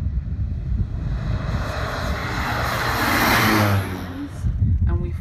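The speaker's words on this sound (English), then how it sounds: "we fly over with the crop duster airplane and drop the seeds" A crop duster airplane flies low over black mangroves, its engine drone loud and steady, swelling as it passes close overhead before easing off near the end.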